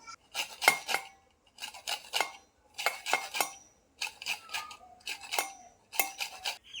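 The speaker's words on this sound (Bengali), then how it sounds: "লেবুটা একটু গ্রেটারে গ্রেট করে নেব" Gondhoraj lemon peel rubbed against a metal grater for momo filling, heard as quick rasping strokes in short rhythmic bursts with brief pauses, close and fairly clear, with no talking.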